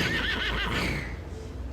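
A horse whinnies loudly and close, a quavering high neigh trailing off into a breathy snort, with faint hoof clatter behind it.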